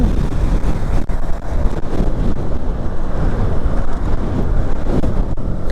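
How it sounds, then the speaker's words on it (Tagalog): Strong wind roars continuously into the microphone while riding a motorcycle in Malico, a loud steady rumble with occasional gusty dips and no voices. "Kalaban dito yung hangin talaga pala."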